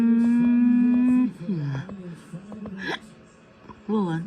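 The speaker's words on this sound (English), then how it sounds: "this is the best cure for hiccups" A cartoon tank-engine character hiccups: a held whistle-like tone cuts off into a few short, sharp voiced hiccup gulps spread across a few seconds, loud and close.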